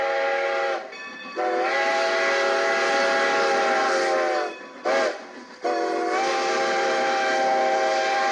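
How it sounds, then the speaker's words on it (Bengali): A train arriving at a station sounds a loud, sustained steam whistle, broken by two short pauses, over a faint rumble. "ট্রেন সত্যি সত্যি এসে গেল।"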